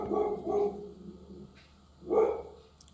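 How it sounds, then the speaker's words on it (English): Dogs bark at a neighbor's cat in two short bursts, one at the start and one near the end, somewhat distant with a quiet gap between. "Dogs must be seeing the cat, neighbor's cat, they go crazy."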